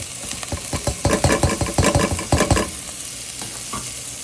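Chopped onion hits hot oil in a pan over medium-high heat and is stirred, a bright steady sizzle with bursts of scraping and rattling from the utensil, close and loud.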